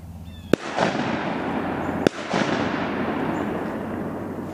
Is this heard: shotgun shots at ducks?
yes